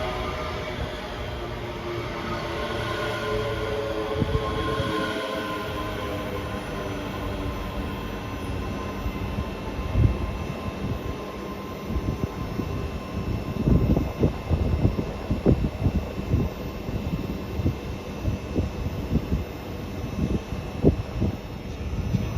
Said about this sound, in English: departing out now is the slightly delayed 1543 ScotRail service from Glasgow Central to Edinburgh Waverley